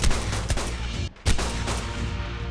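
Rapid pistol shots fired at a bat in Ark: Survival Evolved, a string of sharp, loud cracks close up, briefly pausing before another volley resumes.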